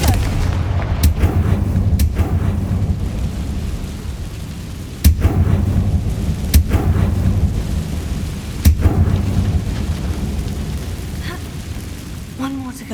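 Booming blasts of the Confringo fire spell in the Hogwarts Legacy video game, several loud sharp explosions at irregular intervals over a rumbling, stormy background.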